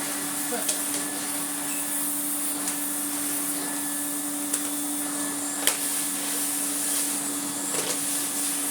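An AEG Compact Electronic 406 vacuum cleaner runs steadily throughout, a constant close motor whine with faint clicks and bumps of the cleaning head over the floor.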